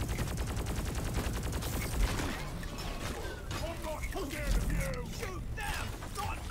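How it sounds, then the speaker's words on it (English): In the video game Deep Rock Galactic, a chain gun fires in a fast mechanical rattle with clanking and ratcheting noises, while players talk over the gunfire. "I think I ran right in front of your chain gun."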